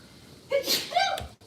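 A single sneeze close by, sharp and brief.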